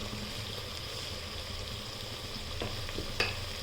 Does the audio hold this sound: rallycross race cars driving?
no